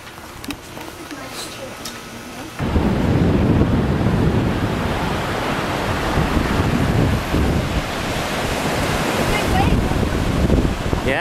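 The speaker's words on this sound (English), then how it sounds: "Woo, beach." Wind roars across a microphone at an Ocean City beach, with surf rushing steadily underneath; a quieter stretch comes first, then a loud, continuous blustery wash.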